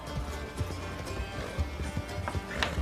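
Horse hooves clip-clop at a steady trotting rhythm in the Red Dead Online video game, faint and fairly close, with a soft ambient bed behind them.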